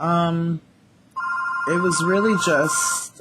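A telephone rings with a sustained electronic bell tone under a man's speech, starting after a brief pause and running to the end, close and clear.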